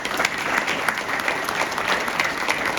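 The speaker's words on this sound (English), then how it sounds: "Let's give them a big round of applause." An audience at a college convocation applauds, a continuous wash of many hands clapping at moderate volume, steady throughout without voices on top.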